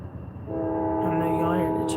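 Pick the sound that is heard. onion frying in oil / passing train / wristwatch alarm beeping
passing train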